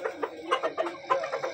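Several chickens cluck close by in quick, irregular bursts, short throaty calls overlapping one another with no talk.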